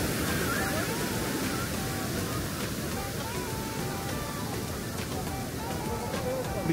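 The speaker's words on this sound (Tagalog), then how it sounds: "Biglang mapo-form yung alon." Ocean waves at Santa Monica Pier in Los Angeles: a continuous broad wash of surf and rushing water, with people talking faintly beneath it.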